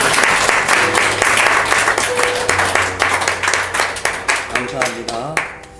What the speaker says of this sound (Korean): 그런 의미에서 우리 경례 박수 한 번 더.